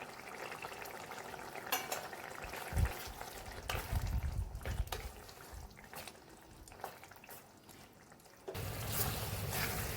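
Prawns dropped into a pan of cooking Malabar spinach, with sizzling, stirring scrapes and utensil clinks close up, plus a steady frying hiss that swells louder near the end.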